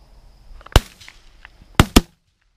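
Shotgun blasts during a dove hunting opener: one sharp report, then two quick shots a second later, loud and outdoors with faint background sounds between.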